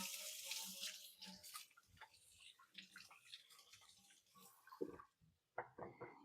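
Tap water runs into a kitchen sink as hands are rinsed, a close, splashing flow with uneven gurgles that breaks off briefly near the end before resuming.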